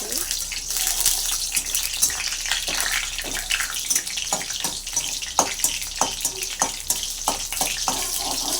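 Ingredients frying in hot oil for a toor dal dish, a dense steady crackle and hiss running throughout with scattered sharper pops, close and fairly loud, with occasional faint voice.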